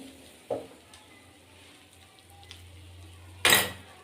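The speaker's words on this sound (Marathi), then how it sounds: "एक ते दोन मिनिटांपर्यंत छान परतवून द्यायचं आहे" Rice modak mixture sautéing in a pan gives a soft, steady sizzle, broken by a couple of sharp utensil clinks, one early and a louder one near the end.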